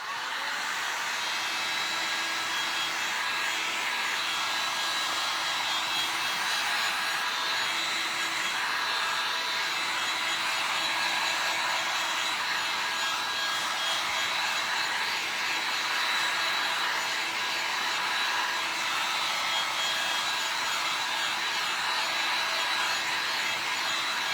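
A hair dryer blows steadily across antique wax and green and brown paint, a loud continuous whooshing drone that runs unbroken at close range.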